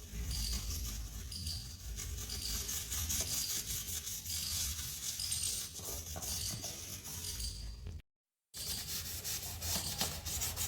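Steady scrubbing rubs over a dirty electrical switchboard, a close, continuous scratchy friction with a brief pause near the end.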